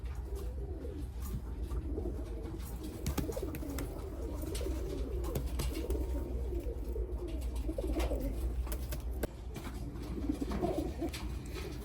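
Several pigeons coo continuously at close range, their rolling, overlapping calls steady and moderately loud for about twelve seconds, with occasional light clicks and taps.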